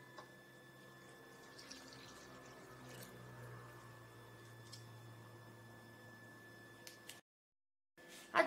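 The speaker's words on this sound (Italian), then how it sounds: "Vado ad unire il latte e l'acqua con il lievito che abbiamo in precedenza sciolto." Milk and water being poured into dissolved yeast for brioche dough, a quiet steady trickle of liquid over low kitchen hum, broken by a short pause near the end.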